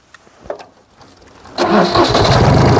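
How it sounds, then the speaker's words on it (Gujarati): A Sonalika 18 horsepower tractor engine cranks to life: scattered faint knocks, then a loud, steady diesel clatter that takes over abruptly partway through and runs to the end, close by. "તો આ રીતના સોનાલિકા ટ્રેક્ટર છે 18 horse પાવરનું અને કેવી રીતના ચાલુ થાય"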